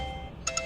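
A faint phone ringtone chirps in three quick repeated pulses at the end, after a stretch of low background rumble.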